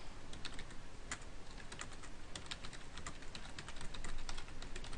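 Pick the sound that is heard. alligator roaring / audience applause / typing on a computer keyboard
typing on a computer keyboard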